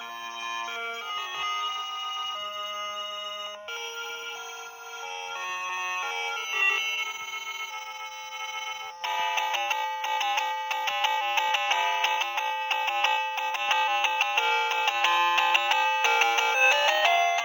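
The Legend of Zelda theme plays loud and clear as a bright electronic chiptune melody from a small clay Link Christmas ornament, a continuous beeping tune that grows fuller and busier partway through, with no talking.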